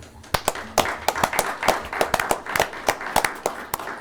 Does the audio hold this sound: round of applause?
yes